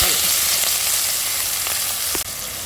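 Tempering of asafoetida, dried red chillies and garlic frying in hot oil, a loud continuous sizzle up close with a faint stirring scrape near the end.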